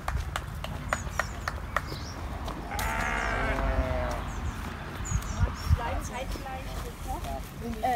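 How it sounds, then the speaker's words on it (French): Sheep bleating on a permaculture farm, several calls rising and wavering over steady outdoor background noise, with people talking nearby and occasional hoof or clatter sounds. "Alors les moutons, comment ça va?"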